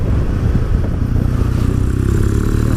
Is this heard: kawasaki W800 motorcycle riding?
yes